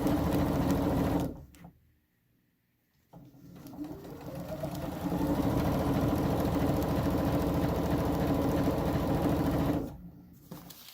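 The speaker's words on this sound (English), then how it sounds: "put it in the sewing machine." A sewing machine stitching fabric strips onto paper for quilt string blocks, a close, steady whirring hum that pauses briefly and then runs on at an even pace before stopping.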